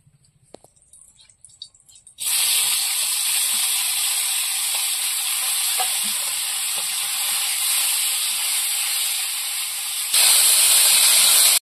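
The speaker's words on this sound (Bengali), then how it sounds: "বাকি মাছগুলো ভেজে নেব।" After a few quiet clicks, the remaining mourala fish hit hot oil and a loud, steady hiss and sizzle starts, swelling even louder near the end.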